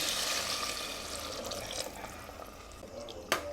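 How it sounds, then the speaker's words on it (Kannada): Water is poured into a pot of tomato bath tempering, a close, steady liquid gush and splash that fades, then a short sharp clink near the end. "ಎರಡು ಲೋಟದಷ್ಟು ನೀರನ್ನು ಸೇರಿಸ್ತಾ ಇದ್ದೀನಿ"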